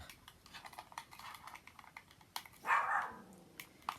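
Puppies yap in short bursts indoors, one louder bark standing out near the end, with light tapping and rustling around them.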